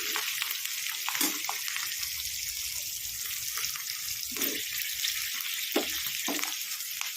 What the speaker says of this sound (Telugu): పచ్చిమిరపకాయలు మిరపకాయలు వేగినాయి అనుకోండి ఆ పోపుతో సమానంగా వేగినాయి అనుకోండి